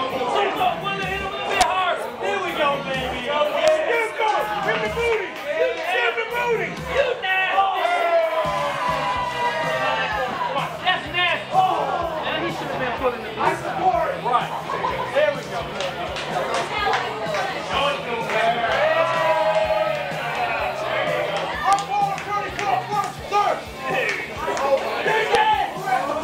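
A crowd at an XICW wrestling event chatters, shouts and cheers steadily, with nearby voices talking over the noisy, lively background throughout.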